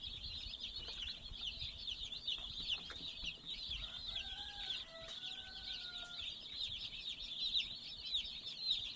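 A crowd of Cornish Cross chicks in a pallet brooder under a heat lamp gives a dense, continuous high chirping. It is steady and close, with a few faint lower calls passing through.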